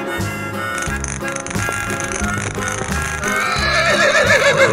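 A horse neighs in a shrill, wavering whinny near the end, layered over a busy, looping musical backing with steady beats.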